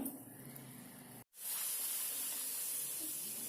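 Puri dough frying in hot oil gives a steady, bright hiss with a brief break near the start, then a loud continuous sizzle with no talking.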